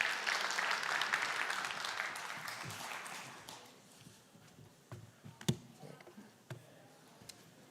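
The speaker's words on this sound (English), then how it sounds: "Give him a warm round of applause" A conference audience at a talk on AI in research gives a round of applause. The dense clapping fades out after about three seconds, leaving a few scattered claps and taps.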